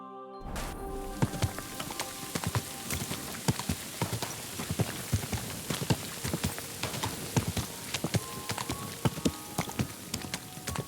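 Horse hooves clip-clop steadily on the ground in the video game Kingdom Come: Deliverance II. The hoofbeats are close and rhythmic, with a soft bed of ambient game sound behind them and no talking.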